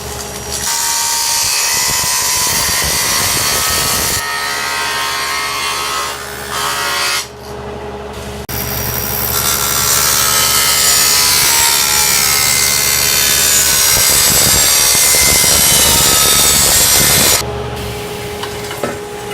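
A saw cuts a small piece off wood for a joint on a houseboat, making loud, continuous, close rasping with a few brief pauses and changes in pitch. No one speaks.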